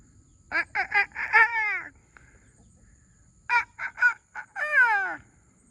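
Two bursts of harsh, raspy crowing calls, each a quick run of choppy notes ending in a drawn-out descending cry, fairly close with a quiet pause between.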